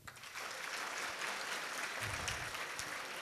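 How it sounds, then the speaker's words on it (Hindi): School students at Vivekanand Senior Secondary School clap for themselves, a dense, steady roar of applause that swells in quickly and holds, heard from a distance. "अपने लिए ताली बजाओ एक बार"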